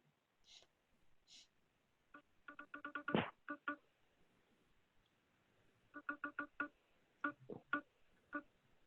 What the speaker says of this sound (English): that sound you're hearing, that bum bum bum bum bum bum, that is blank space.